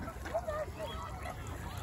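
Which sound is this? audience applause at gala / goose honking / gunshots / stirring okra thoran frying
goose honking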